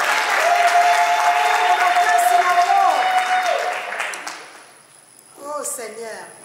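Loud, dense applause and cheering from a church congregation at a wedding celebration, sustained for several seconds before thinning out, with voices in the crowd under the clapping.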